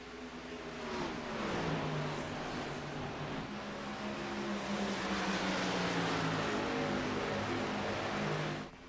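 Race car engines from a stock-car racing video game, likely an Xfinity Series league race, drone steadily and loudly throughout, with pitch shifting as cars accelerate and pass.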